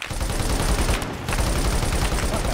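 Rapid gunfire rattles in a shooter video game, loud and close, bursts running almost continuously with one brief pause partway through.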